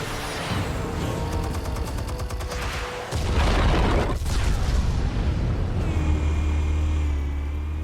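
Loud in-game explosions and bursts of gunfire from Batman: The Telltale Series, a dense mechanical rumble giving way to a heavier booming blast near the middle that rolls on to the end, no voices.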